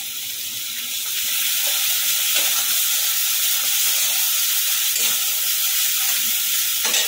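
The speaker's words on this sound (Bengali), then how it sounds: "পোস্তটা একটুখানি নেড়ে নিচ্ছি।" Poppy seed paste stirred in a hot pan gives a soft, continuous sizzle and hiss that swells after the first second, with a few faint scraping touches of the spoon, close and steady.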